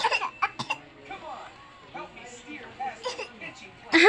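Fake coughs and throat clearing, several short staged bursts spread across the stretch, with some playful vocal sounds and a louder cough at the end, close to the mic.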